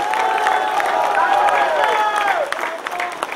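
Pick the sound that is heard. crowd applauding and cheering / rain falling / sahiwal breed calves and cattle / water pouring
crowd applauding and cheering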